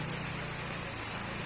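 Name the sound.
rain falling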